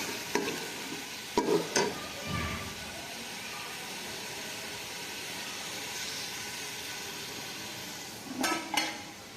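Potatoes and peas being stirred in a frying pan for aloo matar biryani, giving a steady sizzle of frying with a few sharp scraping knocks of the spoon near the start and again toward the end.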